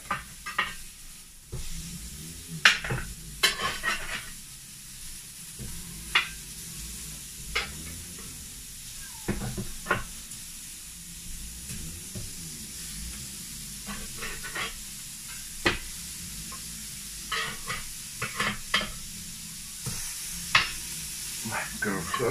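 Pineapple slices sizzle on a Weber Q 1200 grill, giving a steady, even frying hiss across the whole stretch. Scattered clicks and taps from handling break through it, and there is no talk.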